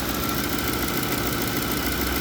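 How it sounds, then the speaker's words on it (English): A steady car engine idle with a faint, fast lifter tick running through it, close and continuous, no voices. "There's a tick, but that's lifter tick. That's not exhaust."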